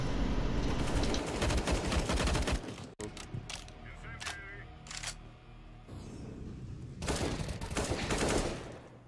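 Rapid bursts of gunfire from video game replays, with volleys of sharp shots crowding the opening seconds, then scattered single cracks and another dense flurry near the end, all fairly loud and close.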